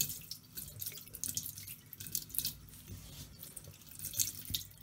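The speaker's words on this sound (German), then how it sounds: "Ungefähr da, wo ihr steht, ist ja der Wasserhahn." Warm water runs steadily from a household tap into a sink, a continuous close hiss with small splashes, while a washcloth is readied for bathing a reborn toddler doll.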